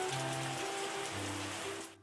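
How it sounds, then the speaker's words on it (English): Steady rain patters on surfaces in the Wine Making Tycoon Simulator game, a soft constant hiss with faint tonal game sounds underneath, trailing off at the end. "Alright, more rain."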